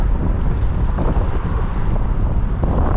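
Strong wind blows at a beach beside the old Severn Bridge during sea fishing, a loud, steady roar buffeting the microphone throughout with no letup.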